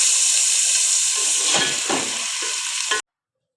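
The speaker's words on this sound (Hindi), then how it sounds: "मसाला हमारा भून गया तो अब इसमें हम चिकन डाल देंगे।" Pieces of chicken go into hot oil over roasted masala in a pan, setting off a loud, steady sizzle and hiss with a few stirring scrapes before the sound cuts off abruptly.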